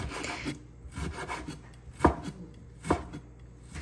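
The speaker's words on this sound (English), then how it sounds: "cutting some onions and cutting some pork" Onions and pork being chopped for a stir-fry in a home kitchen, a quick series of knife strikes against a cutting board with two sharper, louder chops standing out, close and clear with no talking.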